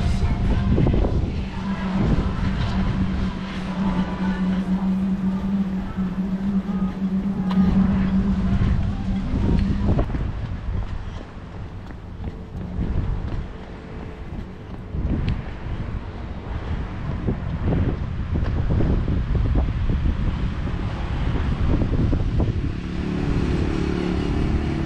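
Strong wind buffeting the microphone on an outdoor trail in Lanzarote on a sunny January day, a continuous low rushing roar that swells and eases, with faint distant engine-like rumble and no talking.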